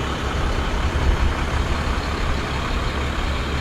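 A Pilon Towing truck rolling by in a small-town parade, its engine a loud, steady rumble close by with no clear breaks.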